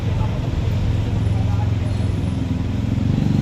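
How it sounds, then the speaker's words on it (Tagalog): Dense road traffic with buses, cars and motorcycles: a continuous loud low rumble of engines idling and moving nearby, with a thin overlay of distant voices and street babble. "Traffic."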